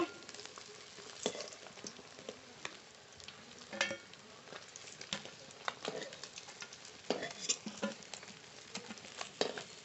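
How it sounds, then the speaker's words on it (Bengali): Katla fish pieces fry in hot oil with a steady crackling sizzle and scattered louder pops and spatters throughout, close and alone. "এই মাছগুলো সব ভেজে নেব"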